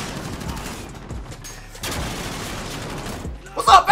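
Gunfire in the first-person shooter Modern Warfare: bursts of rapid shots mixed with game noise, with a sharper, louder volley near the end.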